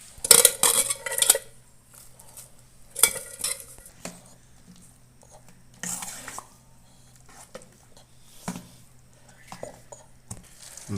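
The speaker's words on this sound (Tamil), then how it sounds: "நல்லா அந்த கூழில் வந்து ஒன்று சேர நல்லா மிக்ஸ் பண்ணிக்கங்க" Chopped onion, curry leaves and green chilli being mixed into rice flour porridge (koozh) for crisp vathal, with a few bursts of spoon scraping and wet stirring against a pot, close and intermittent over a quiet hum.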